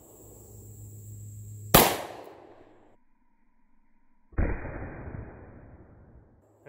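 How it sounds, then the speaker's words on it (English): Two sharp, loud gunshots strike a bulletproof vest a few seconds apart, each a sudden crack followed by a decaying rumble, heard without talk. "Let's shoot another one."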